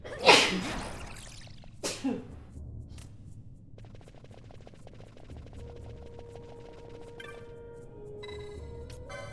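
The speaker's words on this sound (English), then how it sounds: "I have big sneezes." A single loud, explosive sneeze up close, followed by a second smaller burst, then quieter game-like electronic tones and chiming underneath.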